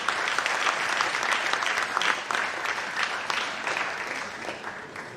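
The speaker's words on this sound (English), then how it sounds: "We allow applause" A crowd at a university professional career day claps steadily and loudly, a thick continuous wash of applause that barely eases for the whole stretch.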